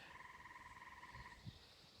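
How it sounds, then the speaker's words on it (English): A tree frog calls steadily in an outdoor setting, a continuous pulsing trill that holds for most of the moment and then stops, with birdsong and a soft bump in the quiet background. "hear the tree frog calling for the rain"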